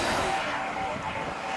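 A turbine-powered RC jet passes overhead at cruise speed, giving a steady broad whooshing roar with a faint high whine, heard at a distance at an outdoor meeting.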